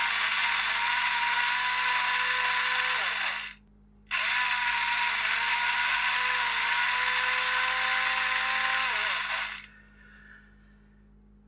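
A Sonic pinball machine's motor whirs loudly and steadily at close range, cuts out for about half a second, restarts, then winds down and stops, leaving a low background hum.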